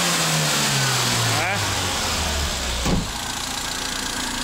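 A Nissan Skyline Hakosuka KPC10 engine revs up through rising pitch, drops back, then gives a sharp second blip before settling into a rough idle, heard close.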